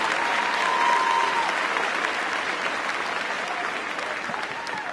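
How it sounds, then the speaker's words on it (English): Sustained applause from a graduation ceremony crowd at Aubrey High School honoring families and friends, dense clapping spread across a large room, steady and fairly loud, easing slightly toward the end. "Please give them a round of applause"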